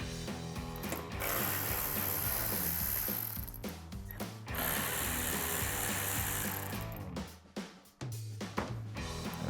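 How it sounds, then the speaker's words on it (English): A hand ratchet fitted with a T25 Torx socket backs out the taillight screws on a 2019-2024 RAM 1500, giving a close, steady stream of rapid clicking with brief pauses between turns. "we're going to take a T25 torque socket to remove these 2 screws"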